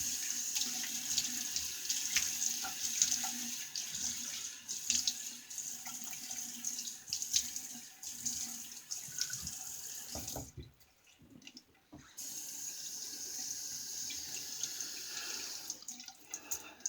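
Water from a tap runs steadily into a sink while the face is wet before a shave, with splashing and hand-scooping noises close by; the flow briefly stops near the end, then resumes.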